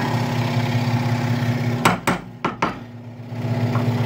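Steel hammer striking a wedge set in a walnut hammer handle clamped in a vise, four sharp metallic blows in two quick pairs, close and loud over a steady machine hum.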